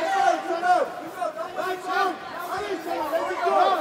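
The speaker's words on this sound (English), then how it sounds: "The crowd here is getting behind their Singaporean and trying to urge him on to victory" A fight crowd at a ONE Championship striking bout chants and cheers on a Singaporean fighter, a rhythmic, swelling roar of many voices filling the arena throughout.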